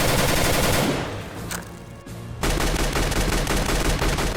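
Rapid automatic fire from a SCAR17 assault rifle in CS:GO, a loud close run of repeated shots that pauses for about a second, then a second sustained burst begins.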